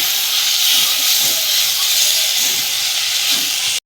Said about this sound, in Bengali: আদার বাটিটা ধুয়েই আমি একটু জল দিয়ে দেব